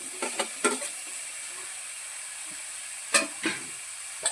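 Brinjal and potato go into a pan for a Marathi bhogi vegetable dish, giving a steady soft sizzle with a few sharper crackling bursts and stirring clatters near the start and toward the end.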